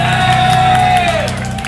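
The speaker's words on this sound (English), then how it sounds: "And now another big round of applause to our second guitarist." Metal concert crowd at Taiwan Deathfest cheering and whooping for the band's second guitarist, a loud, dense wall of shouts and applause that swells and holds steady, with a sustained tone ringing over it.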